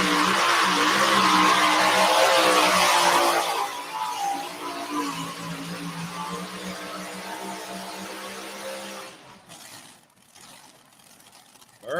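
A pulling tractor powered by two 14-71 supercharged, alcohol-injected Chrysler Hemi engines roars loudly at a tractor pull. The heavy engine noise holds for a few seconds, then fades and drops away near the end.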